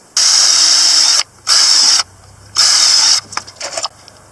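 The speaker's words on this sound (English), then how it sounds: "pre-drill our holes." Power drill pre-drilling holes for an awning mount, three loud high whirring bursts of about a second each separated by short pauses, ending in softer rattling handling noise.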